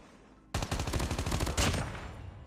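Automatic weapon fire in the Call of Duty Mobile game, a rapid stream of about a dozen sharp shots in a fast steady rhythm, loud and close, ending in a brighter final crack, with no voices.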